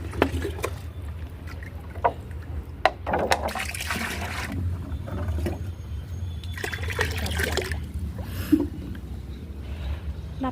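Garden water being poured, a continuous close splashing and trickling with scattered knocks and sloshes throughout.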